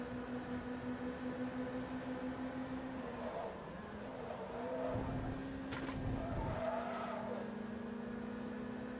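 Lotus Sport Exige racing in Forza Motorsport 2, its engine droning steadily with pitch shifts as it changes gear and tires briefly squealing, all fairly faint and heard alone.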